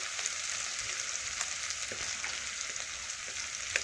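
Spices sizzle in hot oil with Kashmiri chili powder, tomato and turmeric for a vegetarian dish, a steady close frying hiss with faint stirring clicks and no voices.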